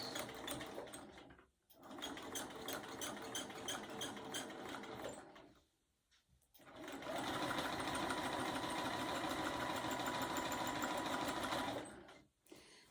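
A sewing machine stitching a quilt seam in two long runs of rapid, even mechanical chatter, separated by a brief pause and stopping near the end, close and clear.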